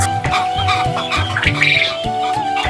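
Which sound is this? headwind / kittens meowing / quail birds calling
quail birds calling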